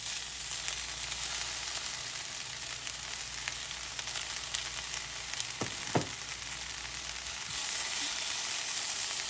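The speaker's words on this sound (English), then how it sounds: "Now I'm going to go ahead and we're going to add some spinach to that." Two eggs and fresh spinach sizzle steadily in a hot pan, a loud, even frying hiss close up with a couple of brief clinks partway through.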